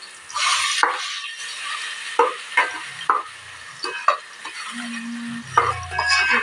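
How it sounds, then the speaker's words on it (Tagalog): Tuna sautéing in a pan, with steady sizzling frying noise and repeated sharp scrapes and clinks of a utensil stirring against the pan, close and fairly loud. "meron ako ditong tuna. Igigisa ko rin din siya."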